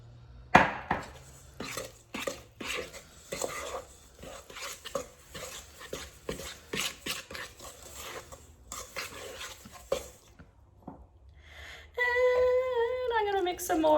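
Stirring and mixing a mixture in a bowl, with repeated scraping and knocking strokes close by, irregular and fairly busy, followed near the end by a different steady warbling tone.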